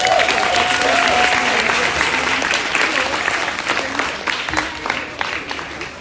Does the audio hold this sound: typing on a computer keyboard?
no